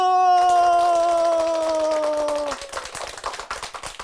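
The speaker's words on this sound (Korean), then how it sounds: "박수!" An audience claps at a lively Korean talk event: a sustained tone rings first, then scattered, brisk handclaps break out and continue to the end.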